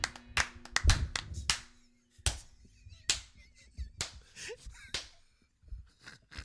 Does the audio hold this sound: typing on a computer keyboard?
no